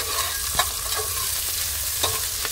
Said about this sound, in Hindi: बस तड़का लग रहा है।